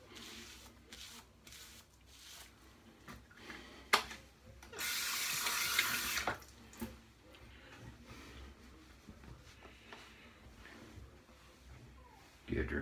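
Running water from a bathroom tap during a shave rushes steadily for about two seconds amid quieter clicks, rustles and scattered handling noises.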